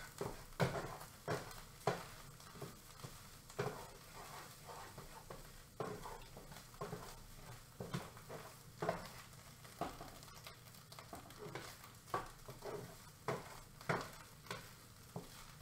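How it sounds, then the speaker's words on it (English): Eggs are stirred into cauliflower fried rice in a pan: a steady soft sizzle broken by repeated rhythmic scrapes and taps of a utensil against the pan, fairly quiet and without talking. "eggs going into chunks so we can stir that in to the rest"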